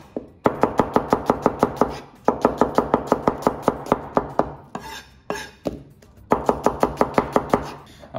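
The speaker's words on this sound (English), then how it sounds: "A couple onions, just slice them through." A knife slices through a couple of onions on a cutting board, giving quick, even chopping strokes in three bursts with brief gaps, close and crisp, with no talking.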